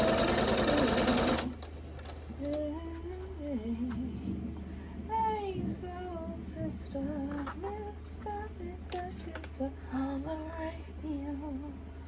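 A sewing machine stitches quilt pieces for a Shoofly Star quilt in a steady, close whirring run, changing pitch as it speeds and slows, after a brief louder noise at the start.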